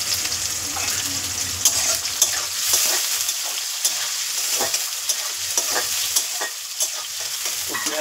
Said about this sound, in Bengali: তো পেঁয়াজটা ভাজা হোক লাল করে